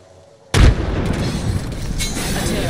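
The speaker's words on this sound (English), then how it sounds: "Throw my grenade out!" A frag grenade explodes in the Apex Legends video game, one sudden heavy boom with a deep thump, followed by a rumbling, crackling tail and ambient game noise that carries on to the end.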